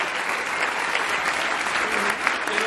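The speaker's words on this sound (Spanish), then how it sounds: "Que se escuche fuerte este aplauso" A live audience at a Mexican theatre-industry tribute event applauds steadily, a dense, loud wash of clapping that holds evenly throughout with no break.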